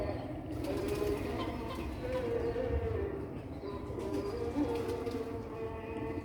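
Purebred black-faced pigeons cooing in a loft, a low soft warbling murmur repeating steadily through a busy, noisy background.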